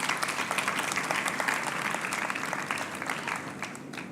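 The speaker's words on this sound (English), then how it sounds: "So a big round of applause for Mick." An audience applauds steadily, a dense patter of clapping that holds for a few seconds and then begins to thin out.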